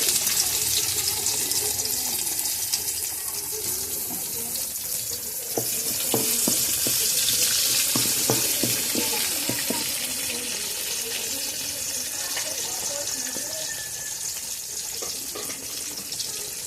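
Onions frying in a pan of oil for mustard hilsa fish, a steady loud hiss of sizzling with scattered crackles and stirring knocks throughout, close up and without speech.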